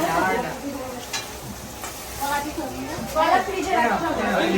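Food sizzles and frying ingredients are stirred in a home kitchen. The crackling hiss is fairly close and steady, and people talk over it.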